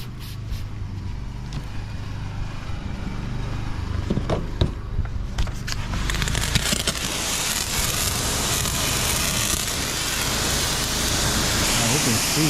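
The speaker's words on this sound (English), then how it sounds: "I'm going to start rinsing off the wheels" Pressurized water spraying onto car wheels during a detailing wash, a steady broad hiss that swells and holds loud and close after a few seconds of quieter handling noise.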